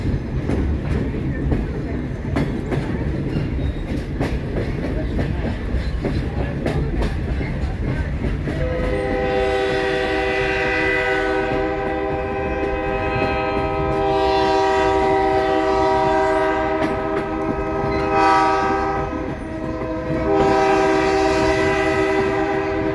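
A Western Maryland Scenic Railway train runs near a canal and depot, with rumbling wheels and clatter followed by a long, loud multi-tone horn blowing in several extended blasts.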